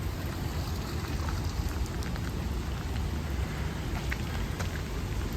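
Steady rain falls outdoors in a city near the Sky Tower, a dense continuous hiss of drops on surfaces filling the scene from start to finish with no voices.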